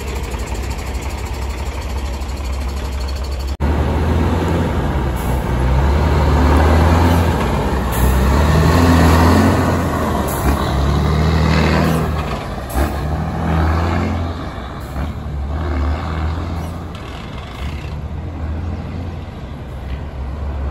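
A heavy loaded truck on the road revs and accelerates, engine rumble rising and falling through gear changes with occasional air-brake hiss, close and continuous throughout.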